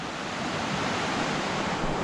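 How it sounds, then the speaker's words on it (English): A river flowing beside a campsite in Red Lodge, Montana, a steady, loud broadband rush of water, close and unbroken for the whole stretch. "We're right next to this river too,"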